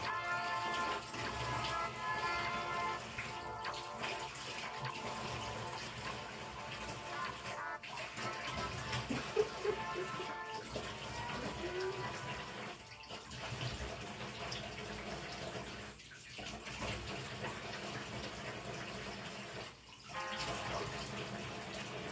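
Tap water runs and splashes steadily while a pink clay face mask is rinsed off, a continuous close wash of water lasting the whole stretch with brief dips.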